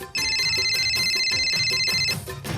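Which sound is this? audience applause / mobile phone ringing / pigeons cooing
mobile phone ringing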